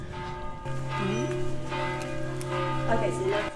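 Church bells ring in the background near the Great Mosque in Granada's Albaicín quarter, sustained tones sounding at middling distance, with a voice speaking over them.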